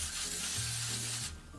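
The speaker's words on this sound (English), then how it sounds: "So now we're gonna spray our baking dish to ensure there's no sticking." Cooking spray hisses onto a baking dish in a steady, close burst for just over a second, then cuts off abruptly.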